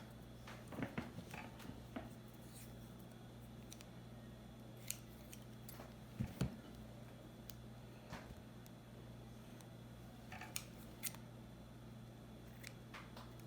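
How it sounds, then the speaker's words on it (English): Scissors snip small pieces off a roll of electrical tape at a workbench during wire splicing, a few short crisp cuts spread over a quiet background hum. "Now we're going to take just a little bit of electric tape, cut off a couple of small pieces."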